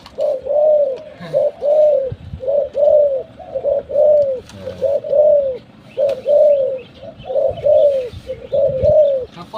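Tame pet doves or pigeons in a home, cooing in a steady repeating series of soft, rounded calls, close and fairly loud, with a few faint chirps and light household noise underneath.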